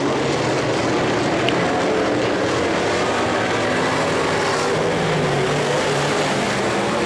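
Modified race cars roar through Heat 1 of a dirt-track sprint car event, a loud, continuous engine drone with no talk over it.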